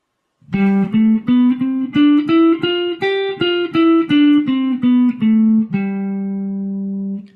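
A guitar plays the Mixolydian mode one clear note at a time, climbing about eight steps then descending, ending on a long sustained low note.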